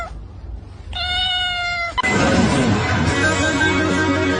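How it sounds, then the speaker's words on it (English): A cat gives a loud, close meow, a drawn-out tonal cry that stands alone after a quieter opening, followed by a noisy wash of background sound. "Look at that cat."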